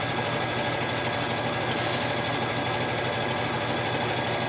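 A home sewing machine stitches steadily through fabric, a continuous close motor whir with a fast needle rhythm running the whole time, no talk.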